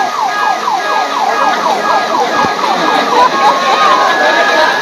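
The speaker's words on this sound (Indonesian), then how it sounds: "Mobil ambulans itu." An ambulance siren wails in a fast, repeating up-and-down sweep, loud and steady throughout, with some faint background noise.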